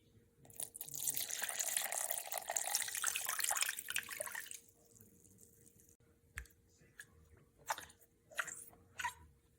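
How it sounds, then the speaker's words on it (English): About 350 grams of warm water pours steadily into a sourdough starter for about four seconds, a close, bright rushing stream, followed by quieter scattered clinks and splashes. "I'm going to add 350 grams of warm, baby bottle warm water."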